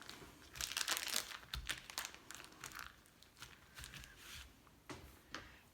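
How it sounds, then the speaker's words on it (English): Soft plastic crinkling and rustling in irregular bursts, close and quiet, as a Ziploc bag of moon pie filling is pressed and squeezed toward one corner. "Squeeze the filling down toward one corner of the bag."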